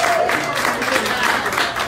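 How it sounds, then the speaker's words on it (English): Applause from an audience fills the whole moment, a dense steady patter of clapping with crowd noise, fairly loud and continuous. "Give a big round of applause for Rosanna Stokes."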